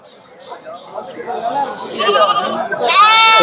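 Goats and sheep at a weekly livestock market in Ranipettai bleat loudly and close by, several overlapping cries rising toward the end, with people talking in the background.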